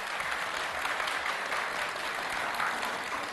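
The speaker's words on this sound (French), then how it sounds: "Merci pour vos applaudissements." Dense, steady applause from a television studio audience as a contestant makes a final appearance on a makeover show, a continuous even roar of many hands with no individual claps standing out.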